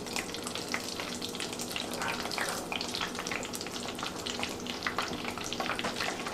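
Tempura-battered shrimp fry in hot oil, a steady dense crackling sizzle with scattered sharp pops running throughout at close range, no voices.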